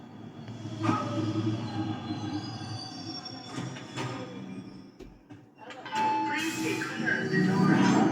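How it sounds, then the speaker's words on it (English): A train rumbles closer in a game, a low steady roar that swells louder toward the end, with faint scattered tones above it. "Ah, the train's coming."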